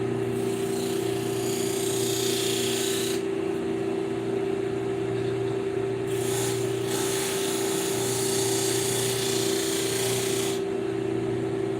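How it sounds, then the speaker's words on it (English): Steady rasping of a sanding block scraping back and forth over an airplane's painted surface, continuous and close, with a constant hum underneath. "sanding with the block"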